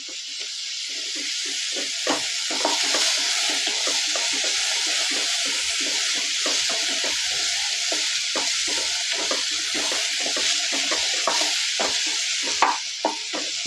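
Ingredients for cauliflower chutney sauté in a hot pan, a steady hissing sizzle carrying a run of quick, repeated spatula scrapes and stirs, close and fairly loud with no talking.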